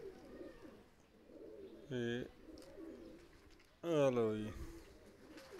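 Low, soft cooing of a green-eyed female pigeon runs through the background, broken by two short bursts of a voice speaking Punjabi.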